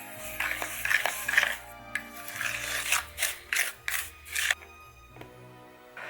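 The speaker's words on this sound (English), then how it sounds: "I think I'm just gonna mix this with a fork actually instead of my whisk" A fork mixes a sugar scrub in a bowl, making a series of irregular clinking and scraping bursts against the container, close and moderately loud, with no talking.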